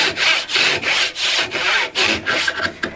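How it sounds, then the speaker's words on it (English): Japanese pull saw cutting through walnut or cherry wood, with rhythmic rasping strokes repeating about every half second, close and steady with no voices. "remember all these saws are pull saws, so it's different than the American saws"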